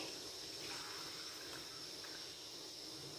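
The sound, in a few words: plain water being poured into pot for beef pulao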